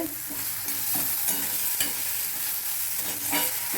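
Chhena kofta, balls of fresh cottage cheese, fry in a pan with a continuous close sizzle while being stirred, with occasional scraping strokes over the bubbling.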